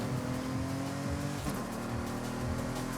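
A car in Forza Horizon 5, tuned for dirt tracks, drives with a steady engine drone and tyre noise, holding a continuous tone with a brief pitch dip in the middle.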